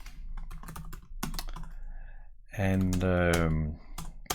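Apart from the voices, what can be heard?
typing on a computer keyboard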